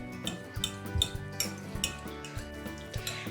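A spoon stirs salted caramel mug cake batter in a mug, making repeated close clinks and scrapes against the ceramic in an uneven rhythm, with no talking.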